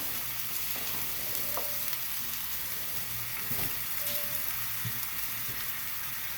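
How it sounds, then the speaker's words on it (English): Steady bubbling and sizzling of a gochujang ginger-garlic seafood sauce boiling in a pan, continuous and close, with occasional small clinks. "The sauce is boiling, which is good."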